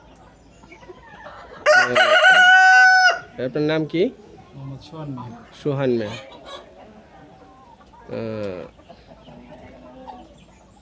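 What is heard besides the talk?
chickens clucking and rooster crowing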